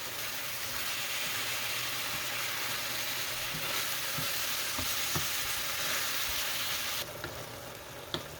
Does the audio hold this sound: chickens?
no